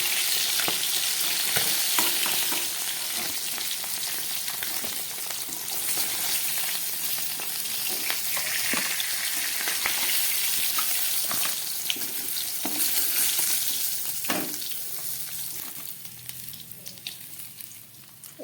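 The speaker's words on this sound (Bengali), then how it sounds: "এই যে দেখুন কি সুন্দর মাছগুলো ভাজা হয়ে গেছে" Fish frying in hot oil, a steady dense sizzle and crackle running throughout with occasional sharper pops and spatters, close and fairly loud, no talking.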